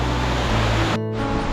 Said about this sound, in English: Waterfall here at the start.